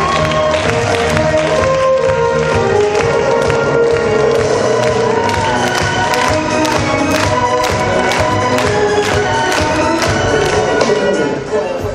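Concert audience applauding at a gala festival show, a loud, steady wash of dense clapping with some cheering, sustained throughout with a music bed underneath.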